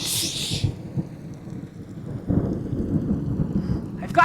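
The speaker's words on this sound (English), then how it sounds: "It's going to storm." Low rolling thunder rumbles on and off under steady rain, with a brighter hiss of rain at the start as a storm approaches outdoors.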